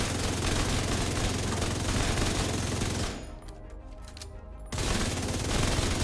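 Rapid automatic gunfire with shock ammo in The Division 2 video game, loud sustained bursts for about three seconds, a short pause, then firing resumes to the end.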